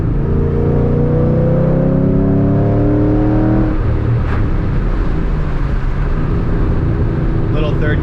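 A 3-valve Mustang drift car pulls hard with rising engine tones through the gears, then the revs drop into a flat, bogging drone in third gear, loud and close throughout.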